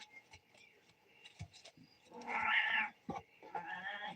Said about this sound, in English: The cat meowing right now is a Scorpio.